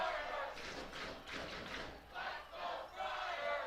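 A high school football stadium crowd roars and chants in rising and falling surges during a St Anthony's vs Iona Prep game, heard from a distance without clear talk.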